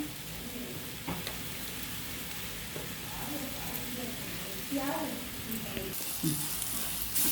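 Onion masala sizzles steadily in a hot pan for a carrot sandwich, a continuous close frying hiss with occasional stirring scrapes and faint background voices.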